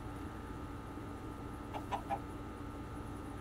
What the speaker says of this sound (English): Hey, chicken.